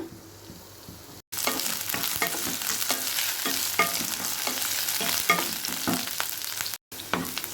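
Bitter gourd fries in hot oil in a kadai, a bright crackling sizzle with frequent stirring clatter, briefly cut off near the start and end.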